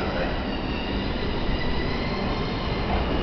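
A Series 251 Super View Odoriko express train rumbles steadily as it pulls into Tokyo Station, a dense, continuous roar of wheels and carriages with a faint high squeal running through it.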